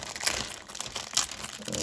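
A plastic bag holding parts of an Academy M997 Humvee ambulance model kit is handled and opened, a brief close crinkling and rustling of thin plastic with no speech.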